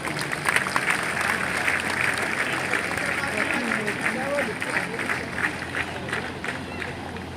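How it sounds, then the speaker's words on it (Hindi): A crowd applauds at a Haryana Police passing out parade award ceremony at PTC Sunaria: steady, fast clapping from many hands that goes on for several seconds, with crowd murmur and voices mixed in. "तालियों से अभिनंदन कीजिए।"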